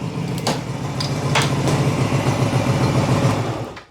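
A motorcycle engine runs steadily at close range, its chain drive cutting a bamboo stick, a continuous low rumble with a couple of light rattles, cutting off and fading out at the end.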